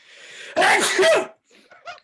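A single loud, sharp sneeze close by, followed by a brief faint breath and a short murmur.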